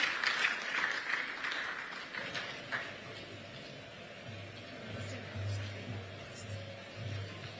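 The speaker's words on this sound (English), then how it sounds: "A round of applause." Applause from a conference audience at a national mining dialogue, welcoming a speaker to the stage. It starts fairly strong, then thins into scattered clapping with a low hum and some background murmur.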